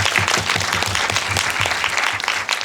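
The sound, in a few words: audience applause in cinema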